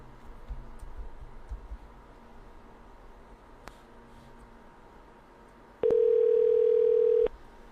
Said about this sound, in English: We're gonna dial that phone number.